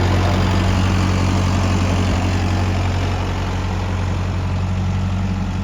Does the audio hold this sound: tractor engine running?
yes